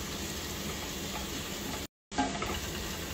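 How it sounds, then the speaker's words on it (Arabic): Carrots and onions sauté over high heat for a kabsa, giving a steady, close, dense sizzle that cuts out briefly near the middle before resuming. "هنا الحمسة تحمر، الجزر والبصل تشوح تمام"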